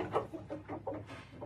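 A backyard chicken flock with a rooster that breaks and eats the hens' eggs gives several short, close clucks in an uneven rhythm, with no talking.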